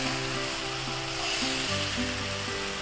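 Yogurt sizzles loudly in hot, thick chicken cafreal gravy, a steady broadband frying hiss with a low bubbling undertone, close up and continuous, no voices.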